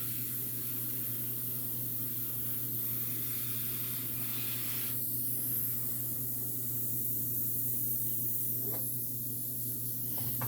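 An airbrush sprays transparent paint onto a 1/4-scale custom AOA Shadow Cat sculpture, giving a steady, soft, continuous hiss at close range with a few faint clicks and no voices.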